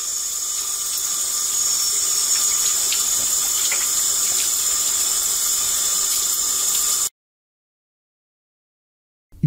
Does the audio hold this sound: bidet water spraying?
yes